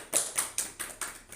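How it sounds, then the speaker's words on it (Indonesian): Sparse hand claps in a classroom during a micro-teaching practice session, about five separate claps at a slow, uneven rhythm, fairly faint and close, with no talk over them. "kasih tepuk tangan"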